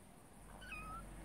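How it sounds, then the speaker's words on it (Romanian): Small stray kittens meowing outdoors near an empty lot: a single faint, thin high-pitched mew rising over steady background hiss, with no talking. "de aici de la noi la baie se aude, s-au auzit două pisicuțe, de fapt trei"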